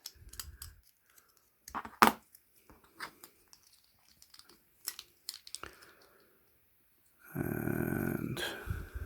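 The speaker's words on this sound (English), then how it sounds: "So I'll do it with a bit of scraping" Small scraping and cutting strokes of a hobby blade against a miniature's cape, scattered faint scratches and clicks in a quiet room, ending with a louder stretch of rough, sustained scraping.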